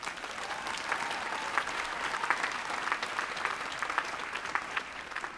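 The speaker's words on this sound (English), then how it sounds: "Please join me in a round of applause for the band" Steady audience applause at a university commencement ceremony honoring an Army band, a dense crackle of many hands clapping evenly throughout with no voices on top.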